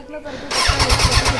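A motorcycle engine cranks and catches after half a second, then idles loudly with a throbbing, uneven rhythm close by.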